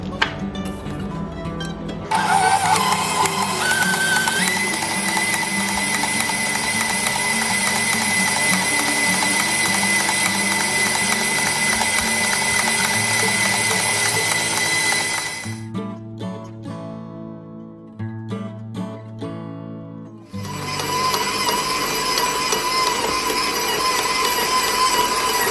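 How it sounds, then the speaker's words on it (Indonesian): A stand mixer kneads sweet bread dough for five minutes, giving a loud continuous mechanical grinding hum with ratcheting gear noise, briefly easing off before starting again. "sekarang kita uleni lagi 5 menit sampai betul-betul kalis elastis"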